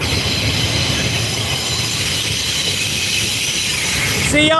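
A freight train carrying a Kubota load rolls past at Coffey's Cliff with a steady loud rumble, wheel noise and a brief squeal at the end, heard near and continuous.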